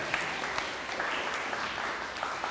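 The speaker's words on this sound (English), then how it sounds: "Give her and her table a round of applause." Fairly soft applause from a student audience at a leadership training session for a participant and her table, an even patter of many hands with a few sharper claps.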